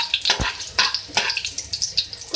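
A teaspoon of cumin seeds fries in hot oil, giving a close, crackling sizzle with sharp pops and spits, with no talk over it.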